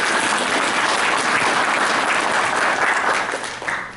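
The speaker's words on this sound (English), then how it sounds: "Big round of applause for Kevin" An audience at a college volleyball recruiting seminar applauds, dense steady clapping from a crowd that fades slightly at the end.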